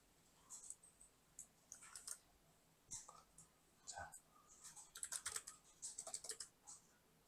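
Fingers type on a computer keyboard in short bursts of quiet clicks, with a firmer single keypress, all faint and close with soft pauses between the bursts.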